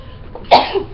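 A single sharp sneeze bursts out close by, loud and brief, followed by a short fading breathy tail.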